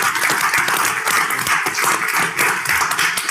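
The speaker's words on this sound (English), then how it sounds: "I think we owe him a round of applause as he exits off of here." Round of applause at a legislative budget committee meeting, a dense patter of many hands clapping steadily through the moment in a meeting room, fairly loud with no talk over it.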